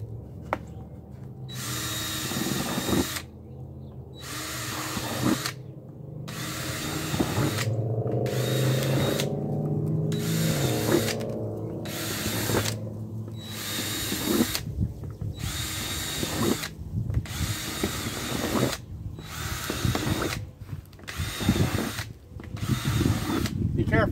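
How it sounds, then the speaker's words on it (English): A power drill bores holes in a tub for planting onions, with repeated loud whirring bursts separated by short pauses, and a person talks in between. "First thing we need to do is drill some holes."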